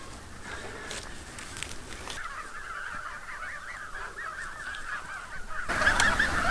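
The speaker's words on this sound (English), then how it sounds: "So this is a very heavy breed of geese." Heavy-breed geese honk repeatedly on a regenerative farm, a steady nasal clamour from a nearby flock that swells louder near the end.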